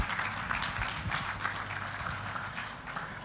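Scattered, continuous clapping from a crowd at a civil service gala and awards night, moderately loud and steady with uneven hand strikes throughout.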